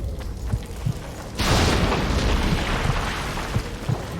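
A bomb detonates in The Witcher 2 video game, a sudden loud boom followed by a long, dense rumbling roar that sustains to the end, with faint thumps before it.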